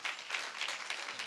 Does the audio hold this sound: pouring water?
no